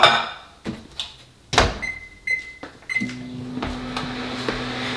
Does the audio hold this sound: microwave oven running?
yes